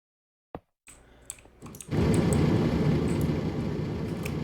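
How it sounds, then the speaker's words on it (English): A computer mouse gives a few isolated clicks, then the rapid jitter clicking of Minecraft play starts, a dense, fast, steady stream of clicks that runs loud and close without a break. "I'm jitter clicking right now."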